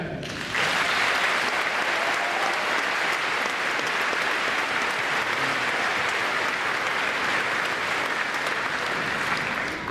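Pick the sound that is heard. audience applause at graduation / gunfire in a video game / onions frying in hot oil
audience applause at graduation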